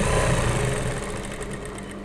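Sewing machine stitching fabric with a fast, continuous mechanical whir and rapid needle clatter, close and steady throughout, slightly easing in level toward the end, with no voices.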